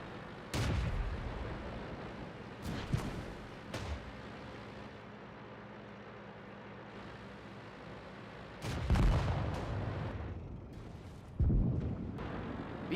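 Artillery fire in a World of Tanks battle, several deep booming blasts spread out with rumbling tails, some nearer and louder than others, over a quiet engine drone.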